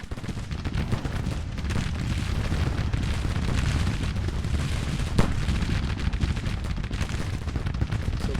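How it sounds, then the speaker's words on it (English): Sustained battlefield din in the Grand Tactician video game's Confederate campaign of spring 1861, with rolling artillery booms and steady massed gunfire forming a dense, unbroken roar. "So Clark under heavy fire."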